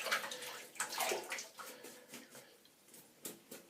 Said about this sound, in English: Give the brush a quick cursory wash.